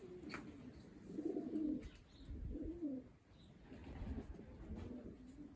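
Racing pigeons in a loft coo in soft repeated low bursts close by, with a red white flight hen among them and faint chirps mixed in.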